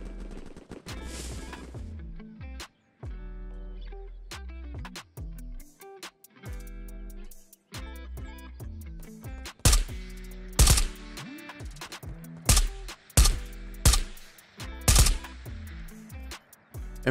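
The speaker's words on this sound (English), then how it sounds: "There's some shooting over there, too." Gunfire from the video game Ghosts of Tabor, irregular sharp shots and short bursts scattered through the scene, some distant and some loud and close, with game ambience between them and no talk.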